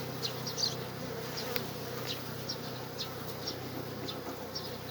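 Honey bees hum in a dense, steady drone at a beehive with a six-frame lower box and nine-frame upper box in Ankara, the close buzz continuous and even throughout, with no voices.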